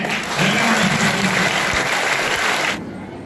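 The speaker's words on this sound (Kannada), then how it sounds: "ಜೋರಾದ ಚಪ್ಪಾಳೆಯೊಂದಿಗೆ" An audience at a school function applauds to welcome a guest to the stage, a dense, loud, continuous clapping that holds steady and then cuts off near the end.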